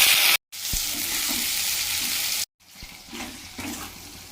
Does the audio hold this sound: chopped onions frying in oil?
yes